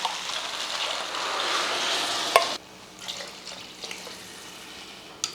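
Water poured into a pot of soaked rice and chana dal for a one-pot pulao, a steady close splashing pour for a couple of seconds that stops abruptly, leaving faint kitchen clatter.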